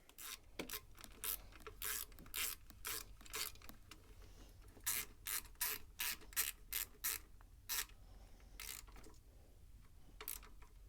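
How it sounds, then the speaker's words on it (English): Ratchet wrench tightening a bolt on a Predator 3500 generator during a propane/natural gas conversion install: repeated short bursts of rapid clicking, moderately close, in uneven groups with brief pauses and no talk. "Start tightening the bolt here."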